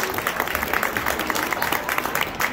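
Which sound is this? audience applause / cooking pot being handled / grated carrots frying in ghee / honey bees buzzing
audience applause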